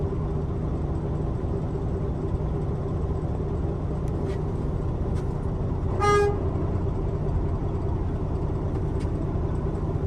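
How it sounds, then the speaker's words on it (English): A single short truck horn honk sounds at a distance over steady traffic and engine rumble, with a few faint clicks around it, during a mulch delivery in Oklahoma City. "I had to honk his horn"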